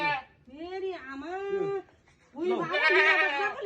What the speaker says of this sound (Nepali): मैले मेरो बाख्रा ल्याएको छ